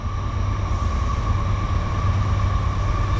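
Norfolk Southern freight train hauled by foreign Ferromex and WFRX locomotives passing on the Lehigh Line: a loud, steady close rumble of engines and rolling cars with a constant tonal hum.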